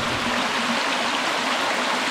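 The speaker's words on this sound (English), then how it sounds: "There's water leaking out of the cave." Water pours from a crack in a cave wall, a steady close splashing trickle with a constant hiss and no pauses, with no voices over it.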